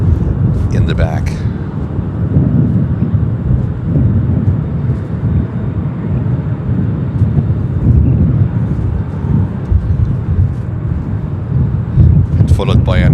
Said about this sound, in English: that's American flight 209 with service from Dublin and a 787-9 Dreamliner taxiing in the back.